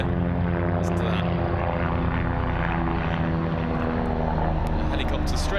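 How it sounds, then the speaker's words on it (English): A helicopter passes overhead above a cricket ground stand, its steady rotor and engine drone filling the air loudly throughout as a voice talks over it. "A helicopter straight over the Colin Ingleby Mackenzie stand towards us"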